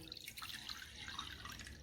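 Water poured by the bowlful into a cooking pot for sugar syrup, a soft, quiet trickle and splash with light dripping, heard alone and close.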